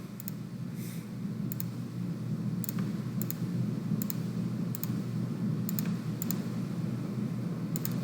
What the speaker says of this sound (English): So if I go to this graphing calculator, I'm going to type it in.